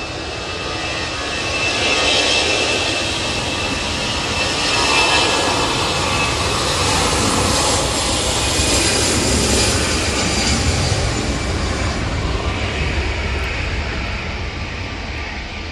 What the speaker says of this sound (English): And that EasyJet A320-200